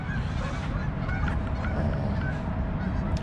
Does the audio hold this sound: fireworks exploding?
no